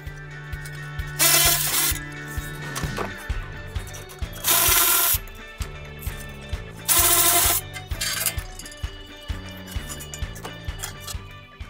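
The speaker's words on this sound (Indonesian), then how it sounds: "Saya buka bautnya pakai ratchet cordless ya, yang pakai baterai, jadi lebih enak." A cordless battery-powered ratchet whirs in several short loud bursts while unscrewing bolts in a car workshop, with clicks and clanks of tools between runs and no talking.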